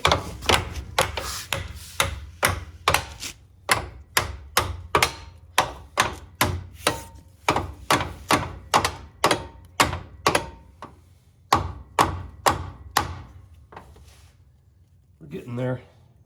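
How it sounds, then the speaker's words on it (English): Repeated hammer blows strike a Chevy 4.3L V6 engine being forced into place in a Willys Jeep CJ5, a long run of sharp metallic bangs at a fairly steady pace, pausing briefly near the end, with people talking. "I need my hammer, and we'll try to bang it over there a little bit."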